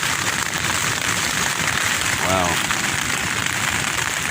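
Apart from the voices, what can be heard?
strong south wind battering a tent and rain fly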